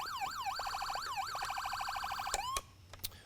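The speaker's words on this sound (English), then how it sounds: "Siren Tones is appropriate on your normal amplifier here" An electronic siren from a Whelen amplifier cycles through wailing and rapid yelping tones, then cuts off abruptly with a couple of short chirps.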